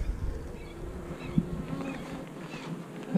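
A cupful of honey bees shaken into a lidded jar to check a colony for varroa mites hum in a steady, close buzz, with a single knock partway through.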